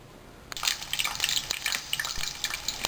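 Plantain slices fry in hot oil in a pan, a close crackling sizzle with irregular pops and spits that starts abruptly and continues.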